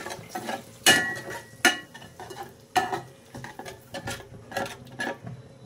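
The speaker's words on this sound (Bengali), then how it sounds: "দিয়ে কিছুক্ষণ নাড়াচাড়া করে এটাকে সুন্দর করে ভুনা করে নেব।" Spice masala being stirred and sautéed in a pan with a little water, a spoon scraping and clinking against the metal in irregular close strokes over a soft background sizzle.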